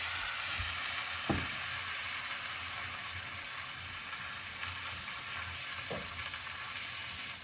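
White wine hisses and sizzles as it hits a hot pan of Brussels sprouts with bacon and onion, a steady close frying crackle with a couple of soft knocks from the pan.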